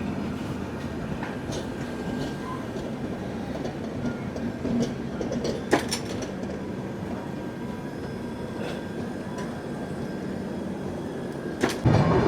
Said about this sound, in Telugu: న్యూఢిల్లీ నుంచి దిబ్రూగఢ్ వెళ్ళే రాజధాని ఎక్స్ప్రెస్ ట్రైన్.